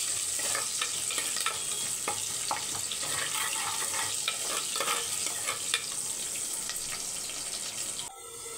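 Green chilies and curry leaves sauté in hot oil in a pan, a steady close sizzle with repeated scraping and stirring strokes throughout, ending abruptly.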